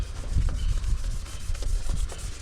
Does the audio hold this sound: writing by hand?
no